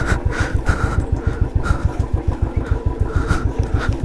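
A motorcycle engine thumps in a fast, even rhythm while riding a rough mountain route from Methlang toward Lakeside, close and steady without any talking.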